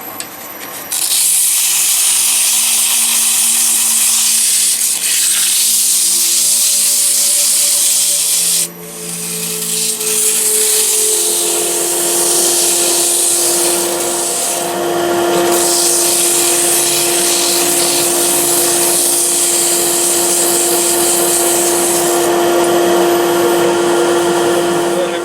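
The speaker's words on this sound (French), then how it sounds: "Je vais donner un petit coup de ponçage d'abord avant de le passer au plus fin." Sandpaper rubbing against a lathe-turned bowl of pine cones and resin, a continuous close abrasive whir over the spinning lathe, with a brief pause before it resumes steadily.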